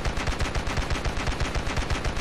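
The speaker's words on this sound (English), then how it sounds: "This is the KGM40, a Swedish World War II light machine gun." A KGM40 Swedish WWII light machine gun fires in the Ravenfield video game. It lets off a continuous rapid burst of evenly spaced shots, loud and dense throughout, with no voices.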